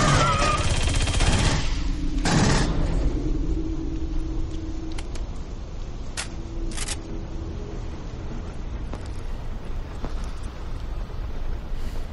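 Gunfire in Aliens: Colonial Marines opens with a dense, loud burst of rapid shots, then trails off into scattered sharp cracks over a low rumbling game ambience.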